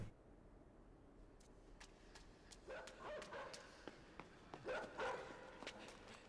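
A dog barks in a video game where the player is a fox, giving several yips and barks at moderate distance over a quiet background with faint movement sounds, the last barks the loudest.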